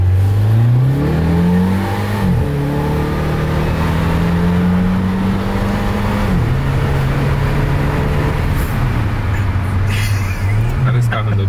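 An Abarth car's engine revs and accelerates hard, its pitch climbing and dropping through several gear changes, loud and close from inside the cabin with five people aboard.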